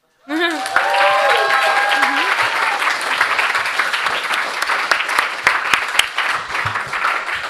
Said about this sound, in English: Can we have a big round of applause for all the contributors?